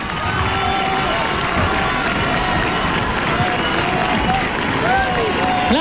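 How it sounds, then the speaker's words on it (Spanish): A large audience at a televised final shouts and cheers continuously in a dense, loud roar, with scattered applause and individual voices rising out of the crowd noise. "La platea, todos gritan."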